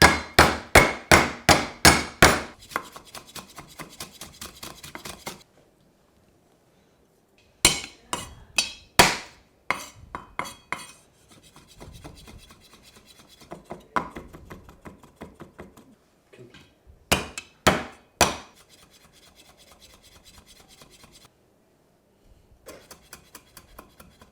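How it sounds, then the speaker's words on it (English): A knife chops lime leaves, garlic, lemongrass and ginger for Thai pork patties. Crisp, rapid knocks on a board come in bursts separated by pauses, some rhythmic runs and some scattered taps, close and clear. "Got some lime leaves here, garlic, lemongrass, ginger, the core of Thai cuisine, and everything just needs to be finely chopped"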